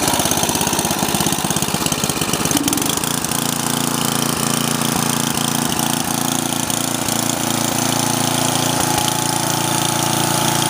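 A Husqvarna snowblower engine runs loud and steady close by, the sound roughening briefly at first before settling into an even, continuous drone with a regular pulsing beat.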